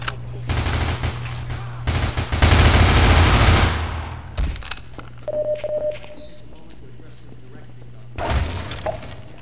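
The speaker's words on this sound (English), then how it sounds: "we have someone shooting at us?" Gunfire in the Half-Life 2 video game, with a loud burst of rapid shots early on, then scattered bangs, radio chatter and low rumbling effects, briefly echoing.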